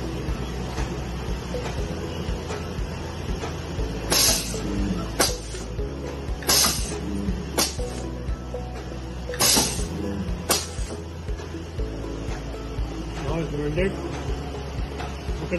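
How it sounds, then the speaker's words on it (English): Press type spot welding machine from Electroweld firing on a sheet-metal pack with a flat bottom electrode, giving about seven short sharp snapping bursts at irregular intervals over a steady low machine hum. "Show the welding."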